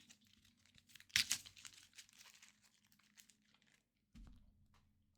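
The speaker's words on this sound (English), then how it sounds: "Giving it a juicy shuffle" A deck of game cards is shuffled in a quick crisp riffle burst, followed by a few seconds of soft papery rustling and handling, fairly quiet and close.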